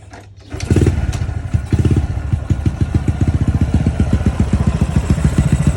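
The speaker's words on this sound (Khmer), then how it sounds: "សំឡេងម៉ាស៊ីន" A motorcycle engine catches and settles into a steady, rapid idle, its low putter loud and close with no voices.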